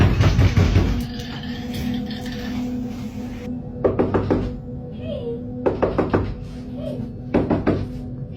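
Knocking on a door comes in three short bursts of rapid raps, loud and close in a quiet room, after a brief stretch of voice and noise at the start.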